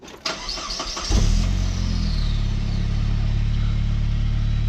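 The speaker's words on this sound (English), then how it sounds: "Can you go turn the car on?" A car engine cranks with a few rapid starter clicks and catches, then settles into a steady low idle, close and loud, no talking.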